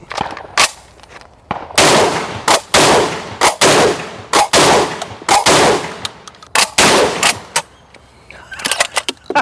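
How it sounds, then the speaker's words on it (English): Rapid strings of loud Çelik Arms Buck Master Gen 2 semi-auto shotgun blasts firing steel shot through a cylinder choke, close and sharp, bursts of several shots with brief gaps, ending with a few quieter clinks. "We have a cylinder choke in, so we're going to fire some steel shot through it."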